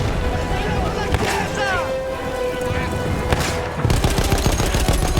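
Bursts of Battlefield 1 gunfire crack and boom amid battlefield din, with sharp shots and a heavier rapid barrage near the end, while someone talks over the action.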